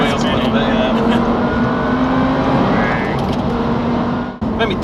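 An Audi R8 fitted with a VF750 supercharger accelerates hard in second gear with wheelspin, its loud, close engine roar sustained throughout and dropping away briefly near the end, with people talking over it.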